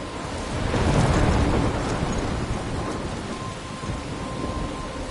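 A thunderstorm with heavy rain in the video game Life is Strange: a loud rumble of thunder builds early and fades, and dense, hissing rainfall continues steadily underneath.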